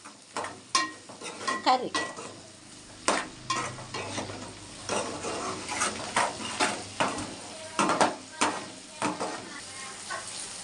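Prawns frying in a pan with a steady sizzle, punctuated by sharp scrapes and clinks of a spoon stirring against the metal, while a voice speaks briefly.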